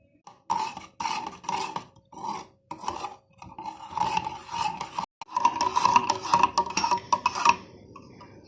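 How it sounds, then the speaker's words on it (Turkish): Coffee, cocoa and milk stirred in a pot, a spoon scraping and rasping against the metal in repeated strokes, close and moderately loud, with brief pauses between bursts of stirring. "Bunu güzelce eriyene kadar tüpte karıştıracağız."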